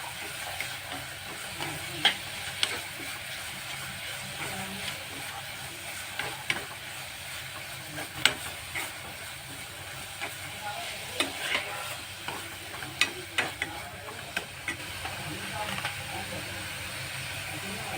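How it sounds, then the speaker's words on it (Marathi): Two spoonfuls of sugar stirred and fried in a pan for a beet, carrot and coconut sweet, giving a steady sizzle with scattered scraping clicks of a spoon throughout, fairly close, with no talking. "यामध्ये आता आपण 2 चमचे साखर घालतो आणि ते चांगली परतून घेऊया"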